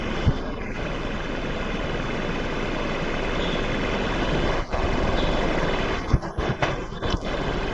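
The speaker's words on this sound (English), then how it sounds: "That's where the generator blade starts to work." Home-built wind generator blades spinning steadily, driven by a fan at rising frequency, producing a constant broadband whooshing hum with a few brief knocks and dips near the end, no talking.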